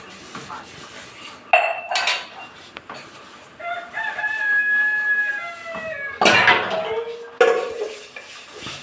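Dishes, pots and pans are washed at home, with a few loud metallic clanks and clatters close by while a rooster crows in the background.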